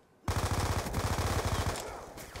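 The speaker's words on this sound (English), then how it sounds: "he shot me from up there" Rapid automatic gunfire in the Call of Duty Black Ops II multiplayer game, a loud sustained burst of closely spaced shots that runs through most of the clip and tapers slightly near the end.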